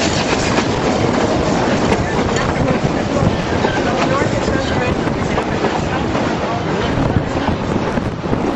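A Durango and Silverton railroad train with 1930s-built locomotives rolls steadily on the rails at a 2011 railfest, a loud, close, continuous rumble and clatter with wind buffeting the microphone and voices faintly underneath.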